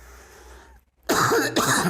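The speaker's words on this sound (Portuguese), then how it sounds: "espero que não incomode vocês aqui com a tossição" Two loud, close coughs from a lecturer who is slightly ill; the first is a sharp burst, the second a shorter follow-up, both after a moment of near-silence and low background hum.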